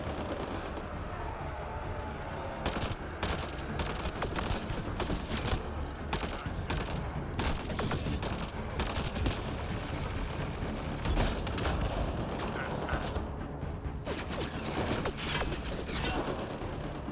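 Gunfire fills a combat scene in the video game Mass Effect Andromeda: dense, continuous volleys and bursts, loud and close, sometimes with crashes and mechanical clatter, and no clear speech over it.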